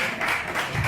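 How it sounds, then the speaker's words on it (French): Parents applaud their children at a launch ceremony: a steady wash of clapping from a crowd fills the short moment, fairly even and continuous, with faint voices mixed in underneath. "nous acclamons nos enfants"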